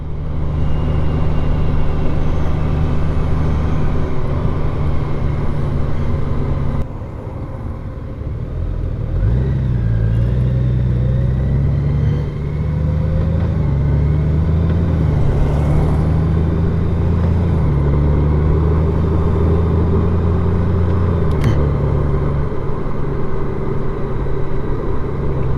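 A Honda Goldwing motorcycle engine rumbles low and smooth while riding on a road, with a steady hum that dips briefly, then climbs and holds as the bike accelerates, under constant road and wind noise.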